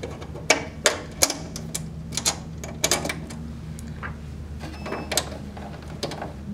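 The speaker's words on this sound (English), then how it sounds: "So we undo the wing nuts. You switch these across." Wing nuts being undone and leads switched across on a light-duty MIG welder set up for gasless welding: a run of sharp metallic clicks and clanks at irregular intervals, close up over a low steady hum.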